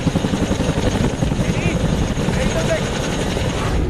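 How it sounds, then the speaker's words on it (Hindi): An Indian Air Force Chinook transport helicopter starts its rotors and takes off, a loud, dense rhythmic thumping and roaring wash that stays close and continuous throughout. "हेलीकॉप्टर के विंग घूमने शुरू हुए और फिर चिनूक ने जवानों तक रसद पहुंचाने के लिए उड़ान भरी।"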